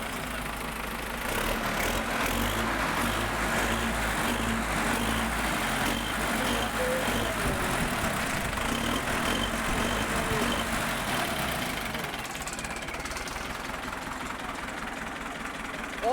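Belarus MTZ tractor engine running at a steady, loud idle up close, a continuous low chugging drone that holds evenly throughout with slight variation near the end.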